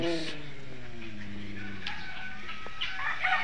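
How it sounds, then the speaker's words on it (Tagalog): Chickens cluck and call close by in a noisy yard at a wildlife rehabilitation center in Laguna, with a rooster-like cry near the start and other birds chattering around. "Ang dami manok."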